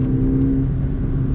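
A 2024 VW Polo GTS engine revving under acceleration, a steady low mid-pitched drone with a sustained hum, heard from inside the car at an even, fairly loud level.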